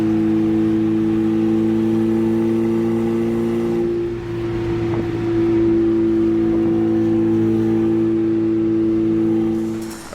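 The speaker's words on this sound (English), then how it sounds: "We're going 60 miles an hour. It's so loud, but those tunnel runs are sweet." A turbocharged Mazda Miata cruises at about 60 mph on the highway, its engine a loud, steady droning hum heard from inside the car, dipping briefly midway before holding constant.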